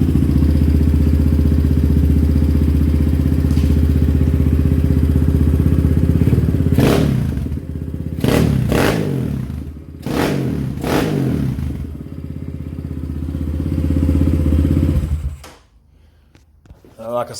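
An SSR189 motorcycle engine fitted with a Nibbi carburetor idles smoothly and loudly up close, with a steady low rumble, several sharp blips and thumps midway, then cuts out near the end.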